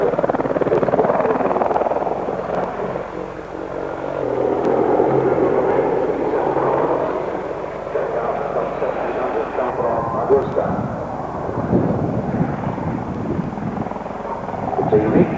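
Helicopter flying at the 1988 Farnborough Airshow, a loud continuous rotor and engine roar that swells and fades as it passes, with someone talking over it throughout.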